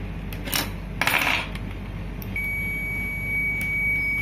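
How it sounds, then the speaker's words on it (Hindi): A multimeter set to buzzer mode for a continuity check on a dead MSI motherboard, with a few sharp clicks of probe contact followed by a steady high-pitched tone over a humming background. "मल्टीमीटर को क्या करें, बजर पॉइंट पे रखेंगे।"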